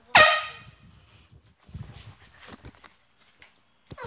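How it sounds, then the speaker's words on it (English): A single loud air horn blast at close range, short and piercing, followed by quieter footsteps and rustling outdoors. "I think we might actually do the air horn right now"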